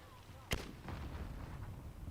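A video game grenade detonates with one sharp, loud blast, then a rolling rumble of battle noise trails on behind it.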